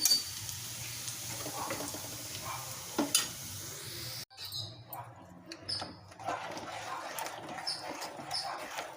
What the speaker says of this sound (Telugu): ఇప్పుడు కొద్దిగా ఇంగు వేసుకోవాలండి చూడండి తాలింపు ఇలా వేగితేనే పప్పుచారు టేస్ట్ ఉంటుంది